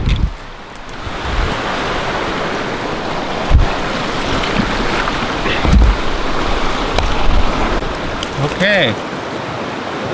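Fast-flowing water in a trout stream rushes loudly and steadily with a broad, windy hiss throughout, while someone speaks briefly near the start.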